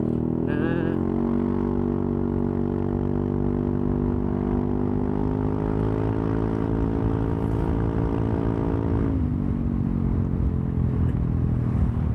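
A Yamaha New Aerox scooter fitted with a Best3 aftermarket exhaust idles and revs, a loud continuous droning burble with slowly rising pitch, dropping back near the end.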